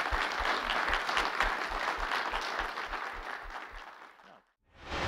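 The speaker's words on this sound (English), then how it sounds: "Please do join me in a final round of applause for the Khaya Lam team and all of the sponsors and participants." Audience applause at an outdoor community celebration in Klapmuts, Stellenbosch, a dense sustained burst of clapping with a rhythmic low thump beneath it, fading and cutting briefly to silence near the end.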